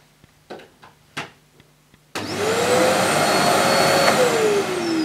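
Light handling clicks and knocks, then a Goblin GCV303B bagless cylinder vacuum cleaner switches on and runs loudly and steadily, its motor pitch shifting slightly near the end.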